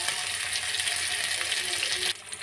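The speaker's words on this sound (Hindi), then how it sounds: "और हमारा फ्लेम जो है मीडियम फ्लेम पे हम फ्राई करेंगे" Jackfruit pieces frying in oil over a medium flame give a steady, close sizzle with fine crackling, holding even throughout and easing slightly near the end.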